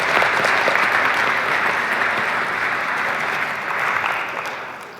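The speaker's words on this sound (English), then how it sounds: "I just want to give another round of applause to Oracle for being a longtime Platinum sponsor for us." A crowd claps loudly at the MIT Battlecode 2016 final tournament, a steady, full round of applause that gradually thins and fades toward the end.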